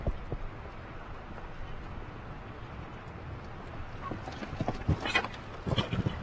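Faint hoofbeats of a large horse clip-clop in an uneven rhythm at an outdoor show jumping competition in Thermal, over steady background noise, growing slightly more distinct toward the end.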